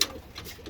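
Pigeons or doves coo softly in short, repeated calls over a quiet outdoor background, with no talking.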